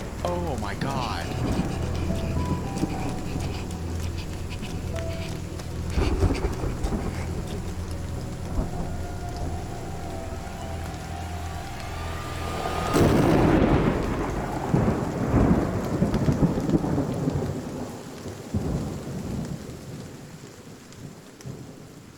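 Steady rain and rumbling thunder in the dark world of the Children of Silentown video game, with a loud thunderclap crashing in midway over continuous falling rain, layered under game music.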